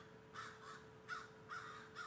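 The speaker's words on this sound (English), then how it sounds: "hear them birds out there talking" Several crows caw outdoors at a moderate distance, four harsh calls in an uneven rhythm against a steady faint hum.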